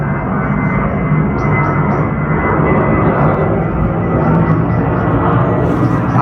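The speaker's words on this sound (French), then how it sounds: "t'entends le bruit de l'avion?" An airplane drones steadily overhead above an abandoned town near Paris, a loud, continuous low roar that fills the whole stretch without easing.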